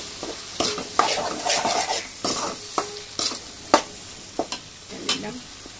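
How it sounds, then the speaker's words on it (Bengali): Tomato and salt being stir-fried into a spice masala for a country chicken curry, with repeated scraping stir strokes and spoon knocks against the pan over a soft steady sizzle, close and moderately loud. "মশলাটা একটু ভালো করে কষিয়ে নিলে রান্নাটা ভালো হয়।"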